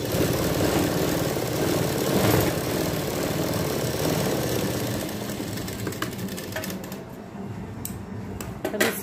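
A sewing machine stitches fabric for an elastic baby frock, with a continuous, fairly loud motor whir and needle chatter that eases off in the final seconds.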